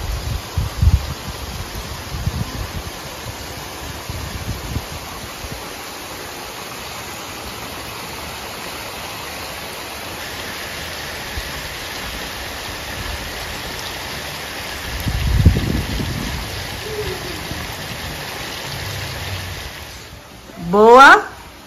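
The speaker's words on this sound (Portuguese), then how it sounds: "Chuva." Steady rain hisses as a broad, even wash of noise for about twenty seconds, with a few brief louder bumps and a short sharp sound at the end.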